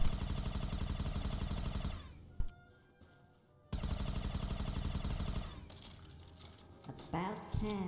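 Rapid automatic gunfire rattles in the modded Lakeside zombies video game, long bursts broken by a short lull, then resuming with scattered shots and game effects near the end.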